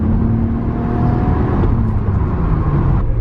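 A turbocharged Mitsubishi Evo pulling in third gear at about three-quarter throttle, a loud in-cabin engine drone with a steadily rising pitch and a faint turbo whine above it, continuous and close, no talking.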